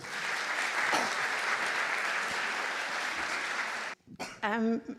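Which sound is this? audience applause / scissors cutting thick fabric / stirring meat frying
audience applause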